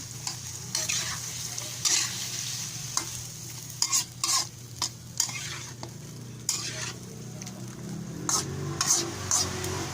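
Pork and vegetables frying in a pan, a steady close sizzle with intermittent scraping strokes of a utensil as the mixture is stirred.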